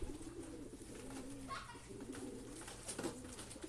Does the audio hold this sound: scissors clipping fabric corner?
no